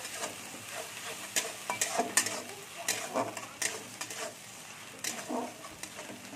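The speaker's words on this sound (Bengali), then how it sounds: "রসুন বাটাটা দিয়ে দিচ্ছি, আদা বাটাটা দিয়ে দিচ্ছি, দিয়ে একটু ভালো করে ভেজে নিতে হবে এটা" Garlic paste and ginger paste fry in a pan for a Bengali-style rohu fish curry, a soft sizzle broken by repeated sharp scrapes and clinks of a spoon stirring against the metal.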